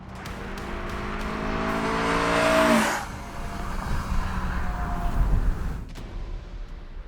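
A Veilside Honda S2000 accelerates on a road with a rising engine note that peaks and cuts off sharply, then drives on with a rougher, steady rumble.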